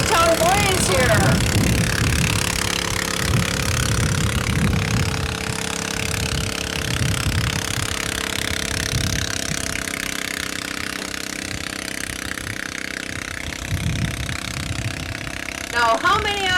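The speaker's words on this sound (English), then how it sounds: "how many out there have got garden tractors at home that sound like this?" A 900-pound garden tractor at a tractor pull chugs loudly with a rough, sustained engine drone and choppy low pulsing, while an announcer talks over it throughout.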